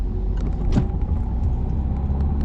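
A driving-school car at the Villepinte exam centre turns gently and pulls away, its engine a steady low rumble close by with faint road noise and no talking.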